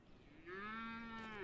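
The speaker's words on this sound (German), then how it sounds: "Eine Kuh macht Muh." A cow from the video game Epic Chef gives one sustained, steady moo of over a second. It is fairly quiet and heard alone.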